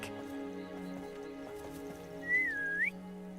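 A single rising, wavering whistle summoning a mount in Hogwarts Legacy, heard over a low, steady game music bed, fairly close and brief.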